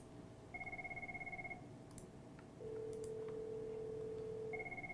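A desk IP phone rings with an incoming call in a lab setup, electronic ring bursts in a repeating pattern alongside a steady tone, fairly faint and clear with no talking.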